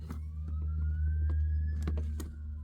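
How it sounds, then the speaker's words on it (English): An ambulance siren passes outside, a faint rising and falling wail heard indoors through a steady low hum and a few light clicks and taps nearby. "There's an ambulance going by."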